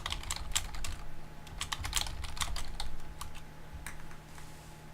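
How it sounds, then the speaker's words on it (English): Rapid clicking on a computer keyboard, a close, busy patter of irregular keystrokes over a faint steady hum, with no talking. "Apologize for the typing sounds."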